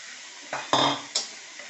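Vegetables with squeezed soybean chunks sautéing in a pan, three quick scraping stirs over a faint sizzle, close up and without talk.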